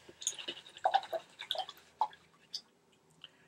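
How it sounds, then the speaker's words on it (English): A paintbrush rinses in a water cup, giving wet swishing and tapping sounds in small bursts close by, which then trail off into quiet. "That's me rinsing my brush again"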